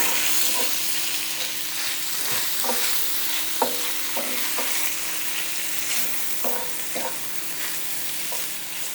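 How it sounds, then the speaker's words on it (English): Chorizo and onions fry in a pan with a steady, close sizzle, punctuated by irregular light clicks and scrapes of stirring. "I'm going to let this all cook together until I'm sure that all of the chorizo is completely cooked and the onions are soft"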